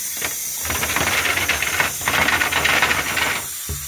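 Water rushing and hissing while rinsing an aquarium external filter, a loud continuous spray with uneven splashing surges that cuts off near the end.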